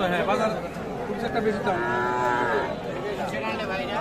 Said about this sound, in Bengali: এগুলো কিন্তু সবই ষাঁড় বাছুর